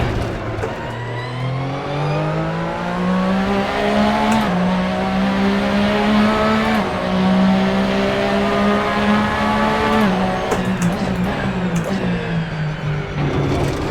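A race car in the Assetto Corsa sim drives a hot lap. Its engine drones loudly and steadily, rising in pitch through each gear with brief dips at the shifts, and a few sharp clicks and scuffs break in.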